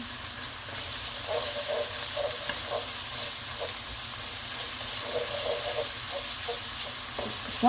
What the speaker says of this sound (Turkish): Biber salçam. Kavuruyorum.